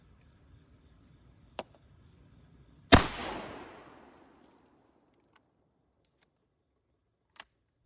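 A single loud, close blast from a Winchester 37 12 gauge shotgun fired outdoors, with a long rolling echo fading over a second or two, and a small click before and after against faint insect chirping.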